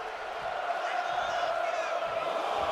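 Video game arena crowd in WWE 2K25 singing Seth Rollins' entrance song during a SmackDown match, a steady, loud sustained chant filling the whole moment without pause.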